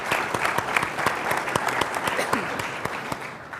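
Audience applause at a Chilean science policy forum, a steady patter of many hands clapping with sharp individual claps standing out, fairly close and continuous without letting up.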